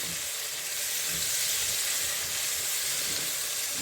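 Chopped leek frying in a hot pan with condiments, a steady, close sizzle and crackle holding at an even level throughout, with no talking.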